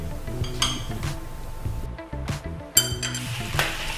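Egg-coated rice is stir fried in a wok over high heat, with a steady sizzle broken by repeated clanks and scrapes of the spatula against the metal in an uneven rhythm, close and fairly loud.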